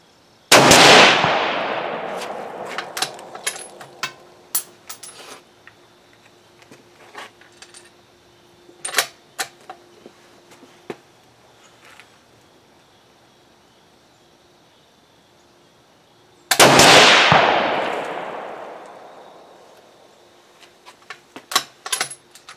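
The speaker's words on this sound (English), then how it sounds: "we're back on that 400 yard target. We're going to take a couple shots" Two loud rifle shots fired at a 400 yard target ring out, each a sharp blast with a long decaying echo rolling across open ground, the shots spaced well apart with faint clicks and handling noise between.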